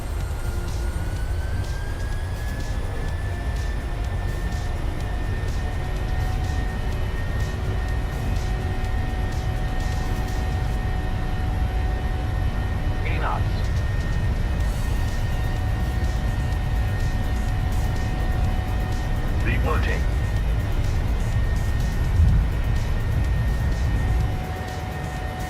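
Boeing 737-600 jet engines in a flight simulator hum as a steady, loud broadband roar with a rising whine, holding constant throughout with no talk over it.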